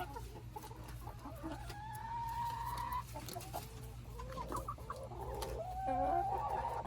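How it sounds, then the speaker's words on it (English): Pet chickens cluck and trill softly at close range against a steady low hum, their calls rising into a rougher, more agitated squabble toward the end. "Those two chickens are fighting."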